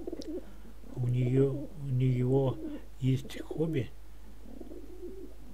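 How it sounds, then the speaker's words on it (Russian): Domestic pigeons kept by a hobby breeder coo in low, rolling phrases close by, while someone speaks over them. "разведение и содержание голубей, как вы можете видеть на этом видео"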